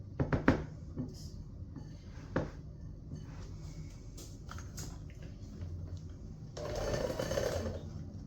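Electric mixer beating cream cheese and butter for sourdough cinnamon buns, with a few sharp knocks at the start and a brief loud whirring burst of the blades near the end.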